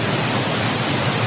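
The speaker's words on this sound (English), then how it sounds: "You hear the waterfall in the background." A jungle waterfall in Rambo: First Blood Part II roars as a dense, steady wash of rushing water, loud and unbroken with no voices.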